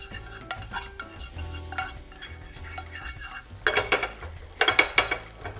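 Chinese fried rice with crunchy vegetables being stirred in a pan, with soft scraping strokes and a faint sizzle that turn into louder clattering spoon-and-pan bursts near the end, close up with no talking.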